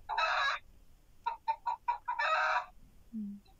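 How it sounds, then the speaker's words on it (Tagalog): A chicken close by lets out loud clucks, then a quick run of rhythmic clucking that breaks into a crow, with a short low call at the end. "Yung manok niya araw-araw maingay."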